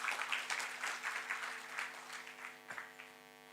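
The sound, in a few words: audience applause welcoming speakers to stage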